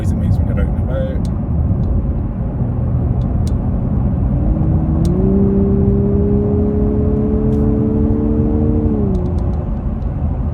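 Lexus LC 500h hybrid coupe in sport mode on a winter drive: a steady engine hum that swells into a sustained, rising note midway, then settles back into constant road rumble.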